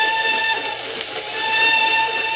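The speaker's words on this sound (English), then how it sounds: "I say, the old whistle do sound eerie tonight, don't she?" A lonely train whistle at night, a radio drama sound effect, holding as a steady, sustained multi-tone blast at moderate distance with a faint rumble of rail travel beneath it.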